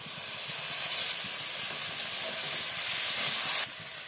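Ground tomato paste sizzling in hot oil with ginger-garlic paste, coriander, cumin and turmeric for a katla fish kalia, heard as a continuous soft, airy hiss and sizzle close by.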